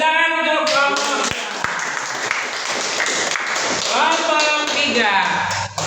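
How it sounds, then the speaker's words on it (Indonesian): Students in a vocational high school classroom clap for a group of classmates, a loud, dense patter of hand claps running throughout with excited voices and chatter mixed in over it. "Oke, tepuk tangan untuk kelompok"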